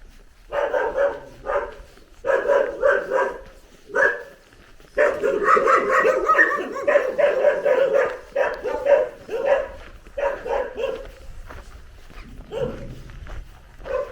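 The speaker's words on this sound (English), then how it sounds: "I've had quite enough of barky dogs for one day" Several dogs bark in repeated bursts, close and loud, with short pauses between volleys, some yips and whimpers mixed in, and footsteps faintly beneath.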